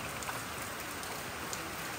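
Heavy rain falls steadily in a constant, dense hiss of drops with no pauses, faint and even, heard alone.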